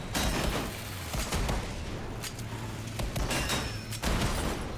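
Firework weapon fired repeatedly in the car combat video game Scaravan 66, a rapid string of crackling bursts and booms over continuous game noise, with no talking.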